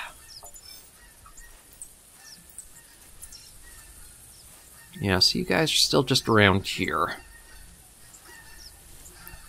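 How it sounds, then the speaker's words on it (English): A flock of geese honks in theHunter: Classic, a loud cluster of overlapping calls that bursts in after a quiet stretch, with a person talking beforehand. "Look at all the frickin' geese."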